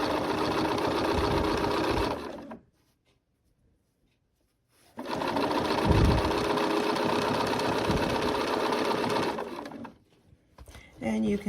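A sewing machine stitches binding onto the dark blue fabric of a crossbody bag in two loud, steady whirring runs separated by a quiet pause, then a short burst at the end.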